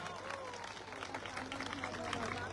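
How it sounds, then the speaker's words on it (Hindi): An audience at a women's awareness conference in Gorakhpur claps in welcome, a dense, continuous patter of hands that stays fairly even for a few seconds, with a crowd murmur and speech underneath. "जोरदार ताली बजा के अपना अपना"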